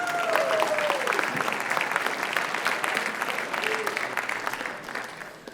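A school audience at a writers expo applauds in a dense, steady burst that fills the room, fading slightly toward the end while a voice briefly speaks over it.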